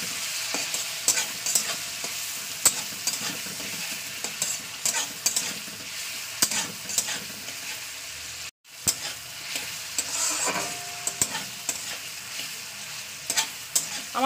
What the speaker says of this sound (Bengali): হলুদটা দেওয়ার পরে আমি একটুখানি কষিয়ে নেবো